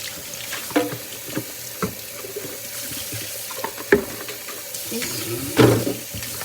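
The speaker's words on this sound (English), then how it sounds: "I'm washing dishes" Dishes being washed at a running kitchen sink, with a steady stream of tap water and occasional clinks and clatters of crockery close by, and no talking.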